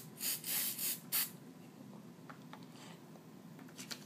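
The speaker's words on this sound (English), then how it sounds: "take your spray glue and you're going to spray this entire thing with some spray glue" Short bursts of spray glue hissing onto a paper cutout, four quick close sprays in the first second or so, followed by faint rustling and a quiet room.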